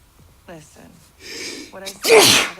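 A person sneezes loudly and sharply near the end, right after a gasping intake, with people talking briefly beforehand.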